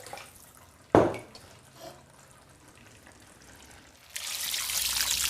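Water is poured into a dish to swill out the lamb juices left in the bottom. A single knock comes first, then a steady hissing pour runs close and fairly loud through the final second.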